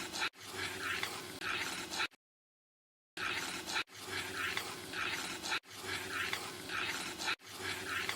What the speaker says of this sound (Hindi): हम खोए को मीडियम टू लो फ्लेम पर ही भूनेंगे।